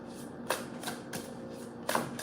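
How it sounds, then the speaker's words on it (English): Tarot card decks being shuffled nearby, with crisp riffling bursts repeating every half second or so over a steady low background hum. "I'm just shuffling all the decks today."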